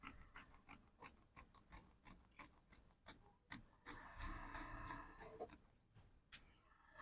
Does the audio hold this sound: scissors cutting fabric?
yes